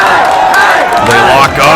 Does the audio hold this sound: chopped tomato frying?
no